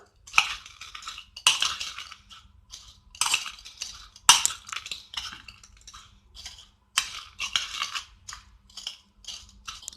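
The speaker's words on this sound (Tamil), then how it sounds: "இப்போ இது எல்லாத்தையும் சேர்த்து நம்ம மிக்ஸ் பண்ணி விட்டுறலாம்." Maggi bhel chaat being stirred and mixed in a bowl, with repeated sharp clinks and scrapes of a spoon against the dish, close by, in uneven bursts without talk.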